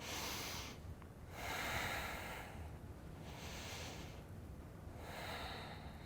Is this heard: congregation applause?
no